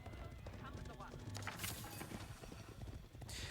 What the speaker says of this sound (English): The horse archers are out. And they're spreading at both ends.